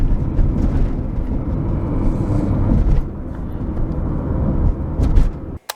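A 5th-generation Honda Civic EG6 on Tein H-Tech springs driving over road bumps. Loud, close cabin rumble with low thuds and rattles as it rolls over the impacts, steady throughout before cutting off abruptly at the end.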